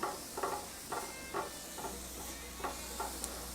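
Food sizzles in a pan with a constant soft hiss, broken by a series of short scraping bursts as it is stirred at irregular intervals; quiet and close, with no voices.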